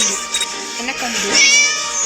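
A cat in the video game Scary Teacher gives plaintive meows over steady game noise, with a person talking over it.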